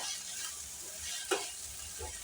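Prawn curry frying in a pan while being stirred, a soft steady sizzle with a faint scrape of the spoon, low and close.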